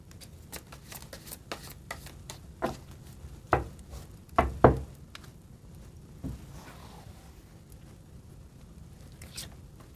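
Tarot cards being shuffled and drawn close up, a run of quick papery riffles and flicks followed by a few sharper slaps as cards are laid down, then quieter handling.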